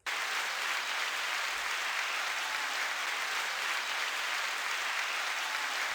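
Canned applause bursts from a pressurized novelty device, a steady dense wash of clapping and cheering that holds at even volume for about six seconds, with no voices over it.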